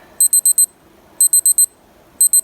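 A Casio G-Shock interval timer alarm sounds in three quick bursts of four sharp, high electronic beeps, evenly spaced about a second apart, loud and close against near silence.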